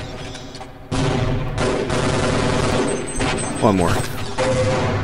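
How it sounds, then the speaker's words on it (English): Machine gun fire in the Half-Life game, with sharp rapid bursts of automatic shots clustered together, loud and close, with a voice talking briefly over the gunfire. "I love how fucking angry this machine gun sounds"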